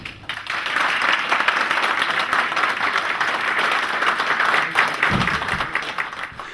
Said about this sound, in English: I'd like you to applaud our newest members of EISA.